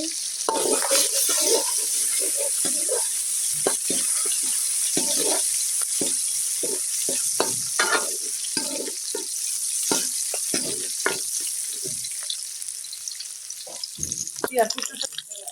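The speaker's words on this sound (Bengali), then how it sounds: "কড়াইতে দিয়ে দিলাম এখন সরিষার তেল এই যে ফেটানো রসুন ছিল সেই রসুনগুলো এখন দিয়ে দিচ্ছি" Crushed garlic fries in hot mustard oil in a wok with a steady, loud sizzling hiss, broken by frequent pops and crackles throughout.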